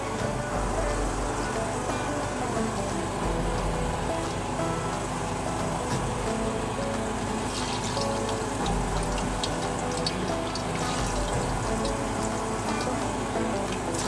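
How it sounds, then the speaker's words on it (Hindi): Potato cutlets frying in hot ghee give a steady, dense, close crackling hiss that stays even and unbroken throughout, with no voices. "घी गरम हो चुका है, अब इनको फ्राई करेंगे।"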